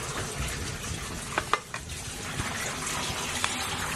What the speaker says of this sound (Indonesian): Goreng tempe, goreng.